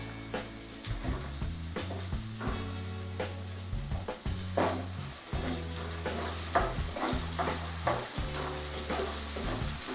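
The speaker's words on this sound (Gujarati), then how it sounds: "હવે સમારેલી ડુંગળી નાખીશું અને તેને એક મિનિટ માટે આ રીતે સાતડીશું" Chopped onion is stirred and sautéed in a pan after garlic-chili paste, for a Gujarati multi-grain khichdo: a steady sizzle broken by frequent scraping stir strokes, close and alone with no talk.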